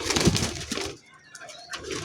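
Tiger grizzle and giribaz high-flyer pigeons give soft close coos and wing rustles in a short burst, pausing briefly before resuming.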